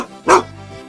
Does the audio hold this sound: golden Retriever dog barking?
yes